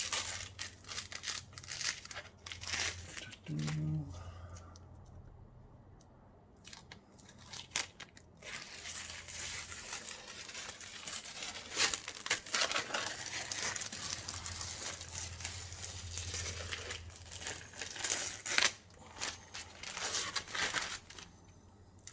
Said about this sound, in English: all we're going to do is basically just peel the tape away